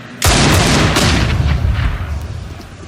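A grenade blast in Counter-Strike: Global Offensive, played on the Train map in a NiP versus Cloud9 ESL One Cologne 2017 quarterfinal, erupts as one loud, close boom whose low rumble slowly fades over a few seconds.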